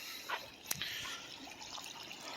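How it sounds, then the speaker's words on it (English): Creek water flowing near a bridge after heavy rain, a soft steady trickle and wash with a few brief splashy drips, fairly faint and continuous, with no one talking. "we also have quite a bit of water flowing in the creek"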